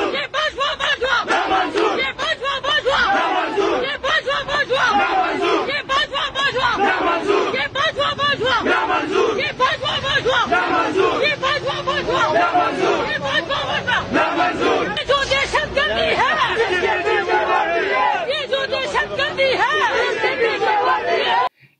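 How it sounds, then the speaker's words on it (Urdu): Protest crowd loudly chanting slogans against military patrons during a march in the Murree hills, a dense, continuous, rhythmic roar of many voices shouting together. "इनके फौजी सरपरस्तों के खिलाफ नारे लगाए"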